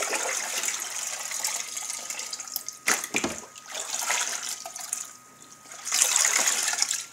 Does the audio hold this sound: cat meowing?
no